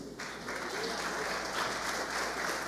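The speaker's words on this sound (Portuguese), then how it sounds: "pode aplaudir o Senhor Jesus?" A church congregation applauding during a worship service, a broad, even roar of clapping that starts abruptly and continues steadily at moderate loudness, with no voice rising above it.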